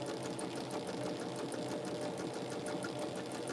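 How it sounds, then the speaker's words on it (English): A sewing machine runs steadily, stitching quilt block pieces together with a fast, even mechanical whir and rapid needle chatter at constant level throughout, close by and uninterrupted. "So just stitching those together"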